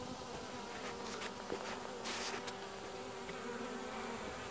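Honeybees cluster and buzz around a queen cage holding a marked mated queen, a soft, continuous drone close by with a few slightly louder passes, faint and without speech.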